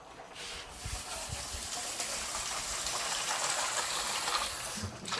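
Running tap water gushing steadily into a sink while ingredients for a traditional Cantonese fish soup are rinsed, a continuous close hiss lasting the whole stretch with slight fluctuations.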